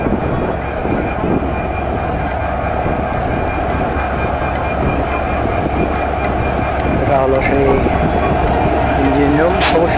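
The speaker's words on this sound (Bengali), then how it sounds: "কিছুক্ষণের মধ্যেই আপনার ভাঙা থেকে ছেড়ে যাবে এই এক্সপ্রেসওয়ে ট্রেনটি" An express train departing Bhanga railway station rumbles steadily and loudly, with rising metallic squeals from the wheels near the end.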